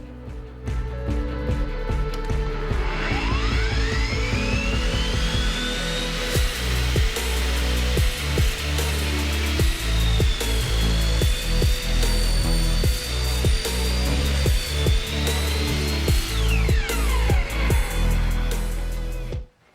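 A loud power saw whines steadily through a long cut, trimming a table leg to length for a motorcycle worktable, its pitch rising and sagging as it bites, with rhythmic knocks and clatter underneath.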